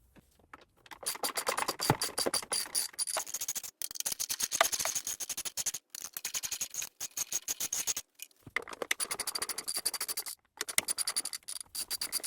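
Quick bursts of ratcheting clicks from a socket wrench backing out the 8 mm bolts on the intake of a 2014 Chrysler Town and Country, close and fairly loud, broken by short pauses between bolts.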